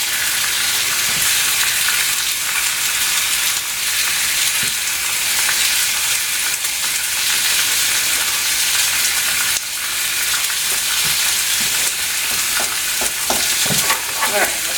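Pork chops sizzle steadily in a hot pan, a dense continuous frying hiss with occasional crackles and pops, loud and close with no talking.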